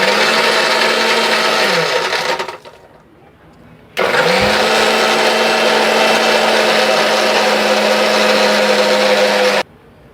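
A blender whirs loudly while making a mango milkshake with ice, running for about two and a half seconds, winding down to a pause, then restarting with a sharp spin-up and holding a steady roar before cutting off.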